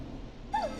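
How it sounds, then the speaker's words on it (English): A dog belonging to a neighbor barks in the video game Killer Frequency, a single short, fairly faint yelp arriving at the end after quiet background hum. "Is that a neighbor's dog?"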